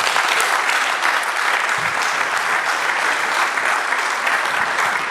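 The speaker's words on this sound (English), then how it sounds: "I thought the clap would be louder than that." Audience applause at a couples and singles dinner event, a continuous, even round of clapping from a roomful of people that holds steady throughout.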